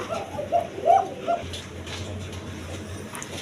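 Several soft, low coos come in a short cluster near the start, then fade into a quiet background hum.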